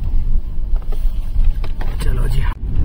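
A car drives across a sandy off-road area where sand is dug out, its low engine and tyre rumble steady and close throughout, with voices talking over it.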